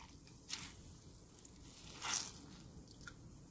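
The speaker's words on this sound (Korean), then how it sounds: "고추잎도 물기를 꼭 짜주세요." Soaked chili leaves and rehydrated dried radish are wrung out by hand, giving two short wet squishes with dripping water, close and quiet.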